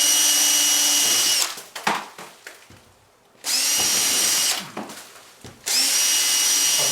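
A power drill bores through old ceiling plaster over wood lath, in three loud sustained bursts with a steady high whine, separated by short quieter gaps with handling noise.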